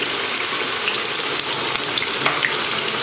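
Summer vegetables deep fry in oil over high heat, a loud, dense, continuous crackling sizzle with scattered pops throughout.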